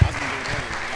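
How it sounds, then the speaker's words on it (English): An audience at a startup pitch event applauds as the next presenter comes up, a brief steady burst of clapping opening with a louder thump. "Round of applause."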